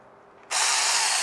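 A 6-inch cordless electric mini chainsaw motor kicks in abruptly and keeps running at a loud, high-pitched steady whine, close by, with no talking.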